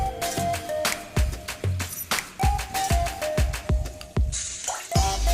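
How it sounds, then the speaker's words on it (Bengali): Rice is washed in water by hand, giving repeated splashy sloshes and drips in an uneven rhythm, close and fairly loud, with no talking. "চাল ধুচ্ছি, চালটা আধা ঘন্টা পানিতে ভিজিয়ে রাখবো ধোয়ার পরে।"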